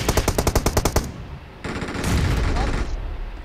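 Video game gunfire opens with a rapid burst of about nine loud automatic shots, followed by a pause and then denser rumbling shots and gunfire noise, with a voice talking underneath.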